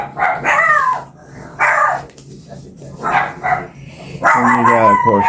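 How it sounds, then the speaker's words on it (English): Dogs bark in bursts several times in the background of a home while someone talks over them, with the barking fairly loud and intermittent. "never mind the dogs barking"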